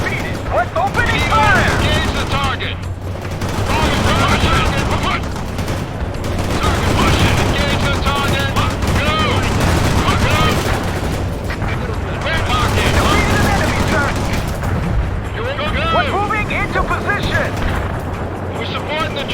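Troops opening fire in the real-time strategy game World in Conflict: sustained volleys of gunfire and distant blasts roll on steadily throughout, mixed with radio voices of soldiers talking over the battle.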